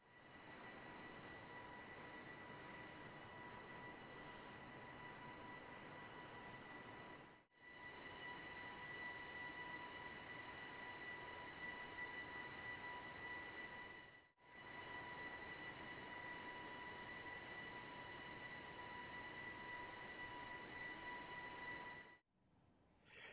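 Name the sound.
Boeing 737 Max LEAP-1B engine whine in flight simulator game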